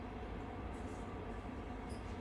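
A train rumbles steadily on a night run through the Alps, heard from inside the carriage as a constant loud low roar with faint wheel noise.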